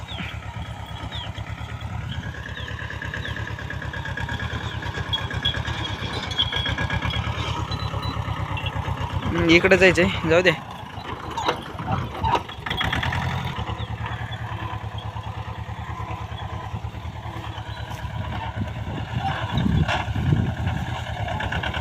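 A Mahindra Jivo 245 DI tractor fitted with a rotavator runs nearby in a farm field, its diesel engine chugging steadily with a low throb. Brief clattering and revving break in midway, and someone speaks a few words.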